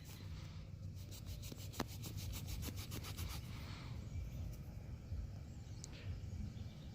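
A dug-up metal bale seal is rubbed against pants to clean it, giving a soft, rhythmic scraping that repeats quickly for a few seconds and then fades, quiet and close over a low outdoor background.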